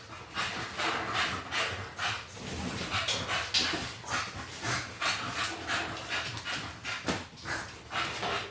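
An American Bully dog pants in quick, rhythmic bursts close by, with occasional faint whimpers between breaths and no voices.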